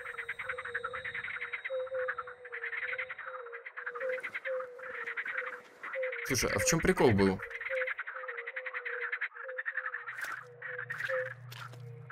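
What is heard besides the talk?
frog croaking in the video game The Cursed Forest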